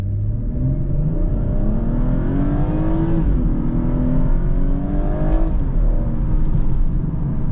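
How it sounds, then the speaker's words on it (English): A 400 HP BMW 440i at full throttle in Sport Plus, the engine revving loudly and climbing through rising pitch sweeps with gear changes, heard close from inside the car. "Sport Plus activated, full throttle."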